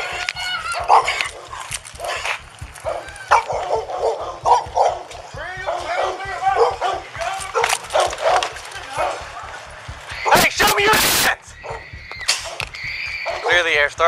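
A dog barks, yips and whimpers repeatedly in a yard during a tense police confrontation, with several people talking loudly and a brief burst of harsh noise partway through.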